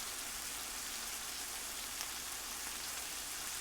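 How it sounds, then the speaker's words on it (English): Steady heavy rain pours down in a continuous hiss, filling the background evenly with no voices, used as a sound effect during a children's bedtime story reading. "there was a crash of thunder and it poured with rain"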